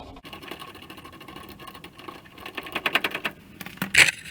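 A rivet nut setter tool being unscrewed by hand, a rapid run of close ratcheting clicks and metallic ticks that grows louder and denser toward the end, finishing with a sharp burst.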